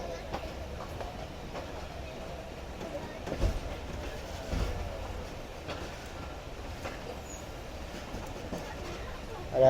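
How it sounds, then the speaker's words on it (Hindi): The Jaffer Express, hauled by a Chinese ZCU20 locomotive, pulls out of Lala Musa Junction over a sharp track change, giving a steady, fairly faint rolling rumble with a few soft knocks and clanks. "ट्रेन हमारी निकल रही है लाला मूसा जंक्शन रेलवे स्टेशन से।"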